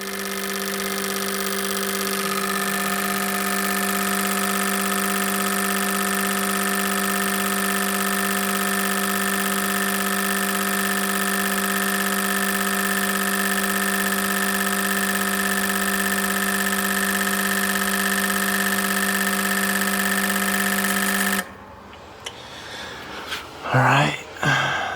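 Car engine idling steadily during a fuel injector flow test, a constant tonal hum with strong harmonics for about twenty seconds, then cutting off abruptly, followed by a few faint clicks and knocks.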